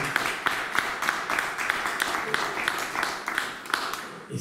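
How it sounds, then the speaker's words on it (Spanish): An audience at a book launch applauds with steady, dense clapping that holds a fairly even level throughout, moderately near and carrying on without a break. "a quien solicito también otro aplauso"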